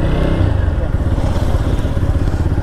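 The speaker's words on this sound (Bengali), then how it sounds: "এখানে আমাদের এখন রেস হতে চলেছে। দেখো একটা স্কুটি, একটা পালসার 125, আমার 160 সিসির বাইক নিয়ে।" Motorcycle engines idle and rumble at the start of a bike race between a scooter, a Pulsar 125 and a 160 cc bike, a loud steady low growl close by throughout.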